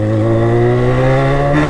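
A loud Yamaha XJ6 motorcycle engine revs close up, holding a strong buzzing tone before climbing briefly at the end.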